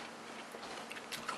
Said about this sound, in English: I want to have another bite.